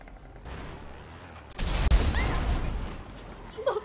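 A car blows up in GTA V with a sudden loud blast that leaves a rumbling, crackling roar, following a few quieter seconds of background game sound.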